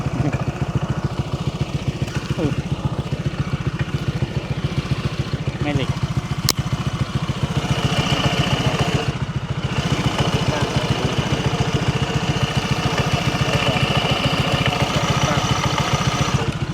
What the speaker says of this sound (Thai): เดี๋ยวเรามาฟังเสียงชุดข้างกันดีกว่านะทุกคน ว่าเป็นยังไง